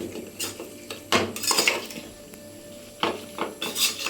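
Mutton gravy masala stirred in a pan with plenty of oil, a spoon scraping and clanking against the metal in irregular bursts, close and fairly loud.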